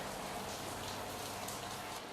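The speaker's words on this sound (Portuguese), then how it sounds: "Meu Deus, tá chovendo pra caramba." Heavy rain pouring steadily, a faint, even hiss of drops on surfaces heard from indoors, with no talk over it.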